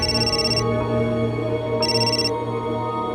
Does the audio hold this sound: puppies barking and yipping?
no